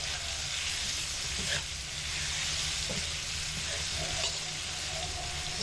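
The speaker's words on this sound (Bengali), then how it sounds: "আম খুব লাল লাল করে ভেজে নিয়েছি।" Raw mango pieces tossed with a generous amount of turmeric sizzle steadily in a pan, a constant bright frying hiss with occasional soft stirring scrapes, close and even throughout.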